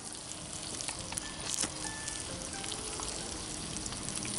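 Meat sizzling as it browns in a Dutch oven at a deer camp, a steady close crackling hiss with faint pops throughout.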